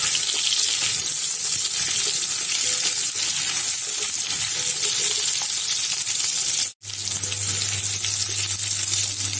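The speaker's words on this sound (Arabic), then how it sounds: "نديهم كده تسويحه كده." Beef trotters sautéing in a pan give a steady, loud broadband sizzle with faint stirring. The sizzle cuts out for a moment near the end, then carries on with a low hum underneath.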